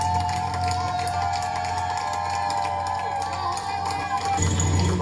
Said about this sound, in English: Applause and cheers helped push Boston Marathon director Dave McGilvery to the finish line.